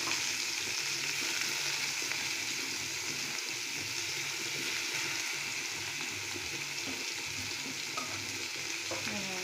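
Cabbage and potato with onions fry in a pan, giving a steady close sizzle with soft stirring scrapes throughout and no speech.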